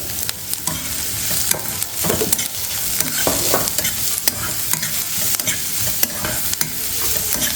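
Onion stir-fried over low heat for vermicelli upma, with constant sizzling and brisk, repeated scraping and clinking of a spatula against the pan, loud and close and without talking.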